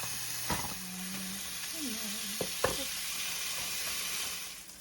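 Sausage patties cooking in a pan on medium heat give a steady, faint sizzle, broken by a couple of sharp clicks and clatters near the middle of the stretch.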